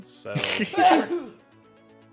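A single close sneeze from a streamer during a Minecraft live stream, a sharp burst with a short breathy tail, followed by a brief mumbled word before the room goes quiet.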